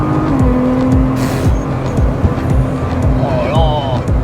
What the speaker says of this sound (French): en train de conduire la voiture de mes rêves